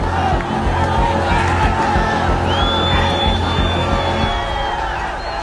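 A large crowd of protesters storming Nepal's parliament roars and cheers continuously, a dense wall of shouting voices with a whistle rising through the din.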